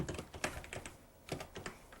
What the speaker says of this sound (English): I would continue on typing in my outline in Word